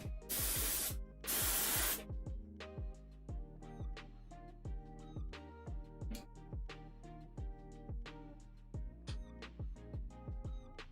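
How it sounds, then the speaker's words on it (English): An airbrush sprays candy apple paint onto cosplay corset armor in two loud, close bursts of hiss, followed by quiet clicks and knocks, with no voices. "The airbrush is not gonna do what I want it to do."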